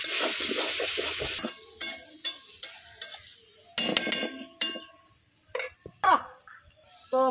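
Bitter gourd is stirred with spices in a pan as a spoon scrapes and clinks in short, irregular strokes with pauses between them. It is close and moderately loud, and there are faint sounds of sizzling and moisture.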